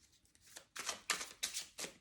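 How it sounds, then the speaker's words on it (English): Tarot cards being shuffled by hand, giving a series of crisp riffling bursts, four distinct swishes at close range with no talking. "All right, I'm gonna keep shuffling."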